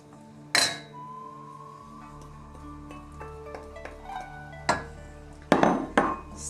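A butter and flour roux is stirred over low heat in a pan, with a quiet, steady background hum punctuated by a few ringing metallic clinks and knocks of the utensil against the pan.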